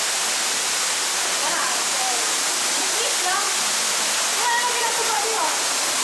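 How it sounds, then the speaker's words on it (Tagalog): Waterfalls at the far end of Igotann Cave give a steady, loud broadband rush of falling water that fills the whole stretch with constant wash and no breaks. "We can already hear the waterfalls."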